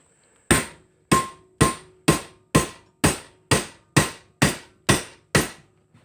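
A length of 3/4-inch bar stock is hammered to drive out a rear suspension bushing on a Brute Force 750: eleven loud, sharp metallic blows, close and evenly spaced at about two per second, each ringing off briefly.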